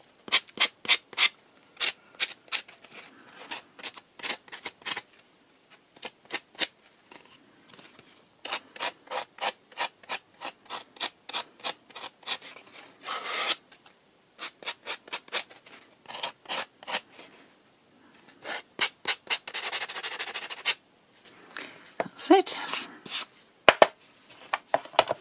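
Sandpaper or a sanding tool works excess tea bag paper off the edges of shaped craft tags in quick, close, rhythmic scratchy strokes, coming in bursts with brief pauses between them and no talk.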